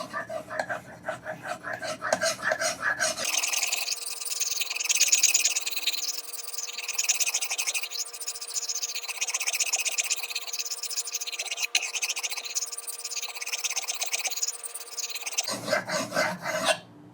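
A knife blade is worked across a wet Japanese ceramic water stone in steady, close rasping strokes for about twelve seconds, with brief murmured talk before and after.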